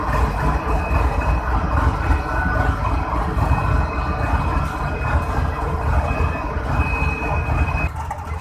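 A GU40 locomotive on the Green Line Express, just coupled to new imported coaches and building brake pressure, gives a steady, loud idling rumble and hum with faint tonal whines, unbroken throughout.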